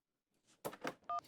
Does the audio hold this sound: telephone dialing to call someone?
yes